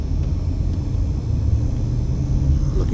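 Road traffic near Aliante Casino in North Las Vegas, a continuous loud low rumble of passing vehicles with steady broadband road noise, heard outdoors with no talking.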